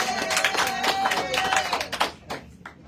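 A town hall audience in Oakley, Kansas claps and cheers in a short burst of scattered hand claps and crowd noise. A voice speaks over it before it tapers off.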